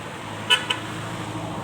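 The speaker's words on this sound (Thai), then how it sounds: "รถที่ผ่านไปผ่านมาก็มีการบีบแตรตลอดเลยนะครับบีบแตรตลอดเลยนะครับ" Car horns on a roadside as vehicles pass, two short honks a fraction of a second apart over steady traffic noise, moderately distant.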